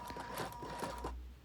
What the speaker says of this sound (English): when I sew everything together